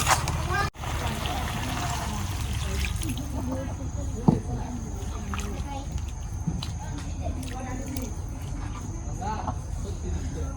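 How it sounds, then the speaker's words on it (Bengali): Water is poured into a fish and red radish curry to make the gravy: a steady trickling splash runs throughout, with one small knock partway through. "এখন আমি ঝোলের পানি দিব।"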